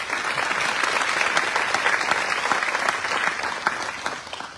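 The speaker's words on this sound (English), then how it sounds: "Let's give him another round of applause." Sustained audience applause at a Virginia economic expansion announcement in Pulaski, steady dense clapping from a large crowd throughout, fairly loud and continuous.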